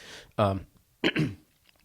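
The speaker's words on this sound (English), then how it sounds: "I have a cold if I'm always clearing my throat today." A speaker with a cold clears his throat twice in quick succession at close range, two rough, voiced bursts separated by a short pause, with no other talking.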